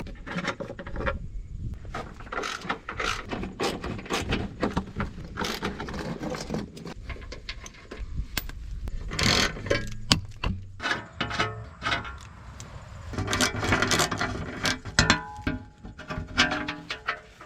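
A ratchet works 15mm bolts loose from the steering stabilizer on a 2001-2010 LBZ Duramax truck, giving a run of close, clicking and clattering metallic bursts with no talking.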